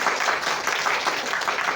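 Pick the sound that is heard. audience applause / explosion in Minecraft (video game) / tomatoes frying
audience applause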